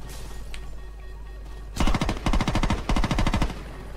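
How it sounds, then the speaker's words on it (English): Machine-gun fire in the video game Saints Row 2 breaks out after a quiet, low hum, with several loud, rapid bursts of close shots separated by short pauses through the last two seconds. "Machine gun boys."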